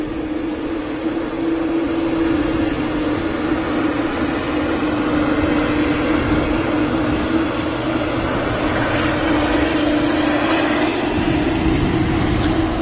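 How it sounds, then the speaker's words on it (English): A TUI airliner landing at Manchester Airport after repositioning from Birmingham, floating slightly before touchdown; a steady, loud broadband engine roar with a constant low drone runs the whole time, with no speech. "that TUI was repositioning in from Birmingham, hence the little float on the touchdown there"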